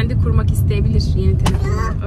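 A car driving along with steady low road and engine rumble throughout, close and continuous, while people talk inside over it.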